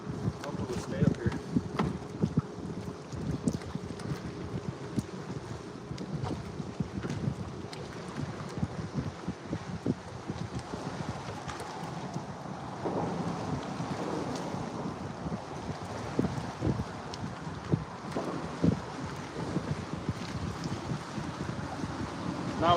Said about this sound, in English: Not with these big waves crashing through here